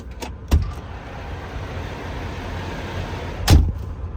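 A Volvo truck door handle is worked and locked, giving two sharp mechanical clunks a few seconds apart, close and distinct over a quiet outdoor background.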